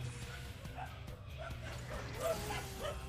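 Several dogs barking and yipping outdoors, short repeated yelps and whimpers at mid distance over a constant low background hum, scattered irregularly through the clip without talk.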